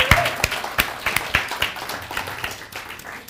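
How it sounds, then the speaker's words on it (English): Sparse clapping from a small audience at an Earth Day panel on healthy soil and climate, distinct individual hand claps in an irregular rhythm, thinning out over a few seconds. "how about another round of applause for Brock for taking us through"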